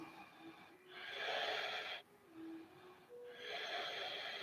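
Slow, deep breaths during a yoga warrior two pose, each long airy inhale or exhale swelling and fading in turn, close and soft, with no talking.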